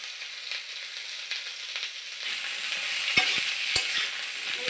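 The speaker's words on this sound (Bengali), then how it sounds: "আলু পটল ডাঁটা ক্যাপসিকাম এগুলো সব ভালো করে তেলেতে ভেজে নেওয়া যায়" Potato, pointed gourd, drumstick and capsicum fry in oil, a quiet sizzle that swells midway, with a few sharp utensil knocks from stirring nearby.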